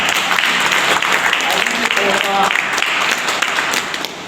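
Applause from a gathering at a religious class inauguration in a village, fairly loud and continuous, with voices and some tonal sounds mixed in beneath the clapping.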